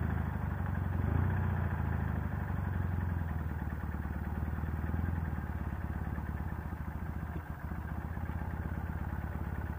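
A Martini Racing sidecar motorcycle pulls in first gear on a highway, its engine giving a steady, fairly quiet drone with mild clatter and no speech.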